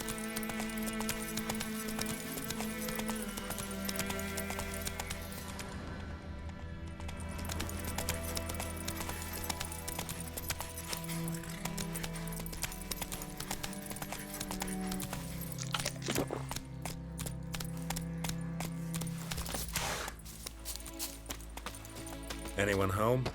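Roach the horse galloping in The Witcher 3, steady clip-clop hoofbeats running continuously under game music and ambience for over twenty seconds, with brief spoken lines in between.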